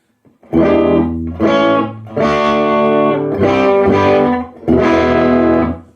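A Gibson '59 Les Paul electric guitar through a Tone City Model B distortion pedal on its vintage setting plays a series of sustained, gritty chords and notes, each ringing out before the next.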